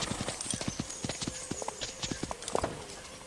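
Horse hooves clip-clop in a video game, a quick, even run of close hoofbeats that continues steadily with faint background ambience.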